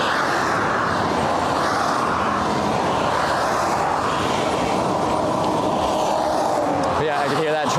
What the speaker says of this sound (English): I could hear that truck as it came up close to me.